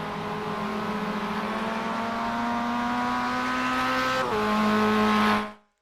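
A Mazda MX5 in the iRacing simulator, racing at Mount Panorama, drones at a high, steady engine pitch. The pitch shifts as it brakes into a corner, then cuts off abruptly. No one speaks.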